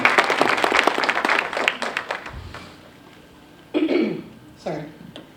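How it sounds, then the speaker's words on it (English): Applause for Katherine at a community celebration evening, a burst of clapping that fades out over about three seconds and is followed by a quiet pause and then a voice beginning to speak. "give her a round of applause"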